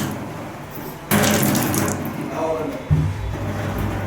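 Water runs steadily from a tap, switched on suddenly and then splashing at a moderate, close level with small shifts in flow.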